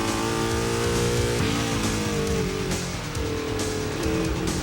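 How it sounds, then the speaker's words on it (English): A Chevy-engined vintage race car at Lime Rock Park roars loudly, revving and shifting through pitches as it accelerates, its harmonic growl rising and falling close by. "I'll tell you what I like, though, the sound of that Chevy engine."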